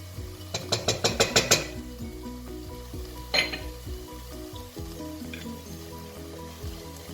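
Meat fries in olive oil for a sumac spinach soup, with a continuous close sizzle, a quick run of clinking utensil taps at the start and a sharper clatter partway through.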